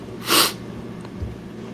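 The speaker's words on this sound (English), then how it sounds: "Just went through a series of 20 sneezes." A single sharp sneeze bursts out close by, followed by quiet room noise.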